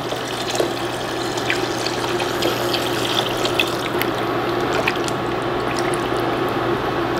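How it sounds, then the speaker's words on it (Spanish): Water and salt cod cooking liquid poured into a pot for asopao con bacalao, a steady close trickling and gurgling flow that continues for several seconds over a low kitchen hum. "Le voy a agregar dos tazas del agua donde se cocinó el bacalao y unas cuatro tazas de agua."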